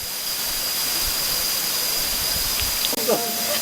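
Steady, dense rushing roar of a waterfall heard from near its upper section on a jungle trail, loud and continuous throughout, with a brief rustle and a few faint noises near the end.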